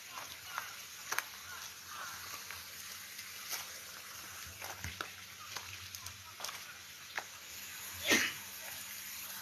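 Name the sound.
sneeze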